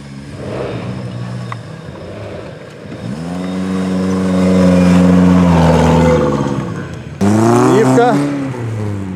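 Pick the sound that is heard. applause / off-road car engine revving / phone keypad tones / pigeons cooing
off-road car engine revving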